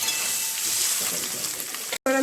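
Salted eggs fry in a pan, turning reddish as they are lightly turned, with a short burst of close, even sizzling that cuts out abruptly for a moment before resuming.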